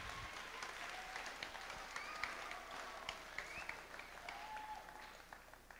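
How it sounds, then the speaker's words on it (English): Applause from the audience at a middle school spring concert, a faint, distant patter of many hands clapping that runs steadily throughout, with some scattered higher sounds over it. "Let's give a round of applause to all of those mentioned."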